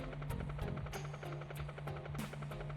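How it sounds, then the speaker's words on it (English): Low, steady rotor drone and hum of a helicopter in the video game b.l.u.e. Legend of Water, with rhythmic thumping pulses over a constant tone. "Is it a helicopter?"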